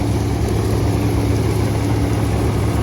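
A Swaraj 855 tractor engine runs steadily while powering a Jagatjit reaper, a continuous low mechanical drone at constant speed, loud and close with no pauses.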